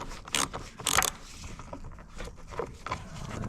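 Bolts being removed from a Ford Escape tail light, a few short metallic clinks and scrapes from tools against the fastener and housing, close and fairly quiet.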